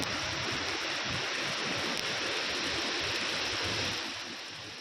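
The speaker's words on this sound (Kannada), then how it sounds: "ಇಲ್ಲಡ ಅರೇದ್ ನೋಡಿ ನೀರು ಎಂತ ಸ್ಪೀಡ್ ಹರಿತ" Fast floodwater surging through a flooded mining area in Ballari after heavy rain, a dense, loud, steady roar that eases slightly in the final second.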